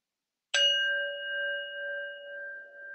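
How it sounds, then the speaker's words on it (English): A meditation bell struck once with a bright metallic attack, then a long, steady ringing tone that slowly fades over several seconds, heard alone in a quiet room. "we'll start with 3 sounds of the bell"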